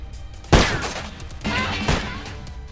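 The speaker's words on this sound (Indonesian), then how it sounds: "Orang-orang yang mendengar suara tembakan itu" Two sharp, loud gunshots fired at a parked couple's car at night, roughly a second and a half apart, each with a brief echoing tail over low background noise.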